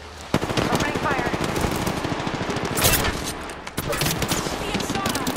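Rapid automatic gunfire and overlapping bursts blaze nearly nonstop in a sci-fi shooter match, loud and close, with a brief lull near the middle before firing resumes, plus faint voice callouts underneath.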